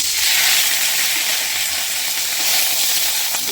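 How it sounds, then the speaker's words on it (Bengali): Drumsticks, potato and chilli fry in oil while being stirred, producing a loud, even sizzle and hiss close by with no voices. "ভালো করে নাড়াচাড়া দিয়ে দেবো এটা একটু ভেজে নেব"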